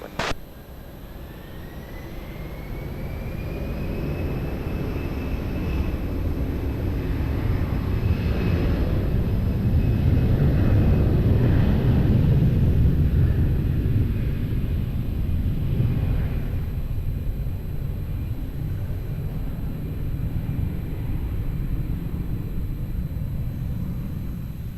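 A passenger jet takes off from runway 20 at Lisbon Airport, its engine roar building into a loud, sustained rumble with a rising whine as the aircraft accelerates and climbs.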